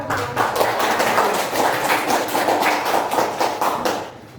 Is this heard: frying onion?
no